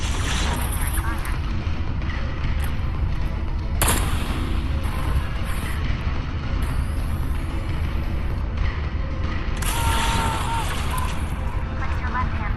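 A charged railgun fires again and again in the VR mech shooter MECHA VR. Loud, booming blasts hit at several points over a constant roar of heavy game noise.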